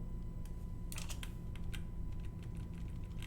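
Computer keyboard keys pressed for Photoshop shortcuts while editing a character sticker design: a quick burst of close, crisp clicks followed by a few scattered single taps over a low steady hum.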